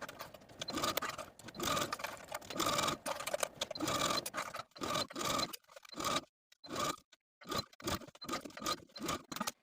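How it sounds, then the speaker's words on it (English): Sewing machine edge stitching bias tape around the armhole of a silk dress: quiet, close bursts of rapid stitching separated by short pauses, with the gaps growing longer toward the end. "take it back to the machine and edge stitch close to that inner folded edge of the bias tape all the way around"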